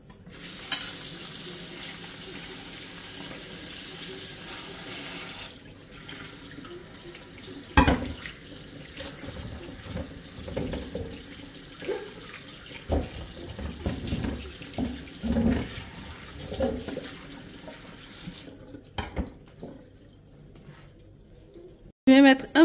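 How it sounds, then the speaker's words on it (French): Running tap water streams into a kitchen sink as small potatoes are rinsed and rubbed by hand, with intermittent splashing and knocking under occasional speech, before the water stops near the end. "J'ai ici des petites pommes de terre, je vais les laver."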